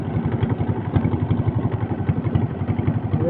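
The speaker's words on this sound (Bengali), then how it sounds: "এই আমরা বর্তমানে ট্রলার উঠে গেছি।" A trawler boat's engine runs steadily throughout, its close, loud, rhythmic chugging pulse continuous on a trip to collect wild honey.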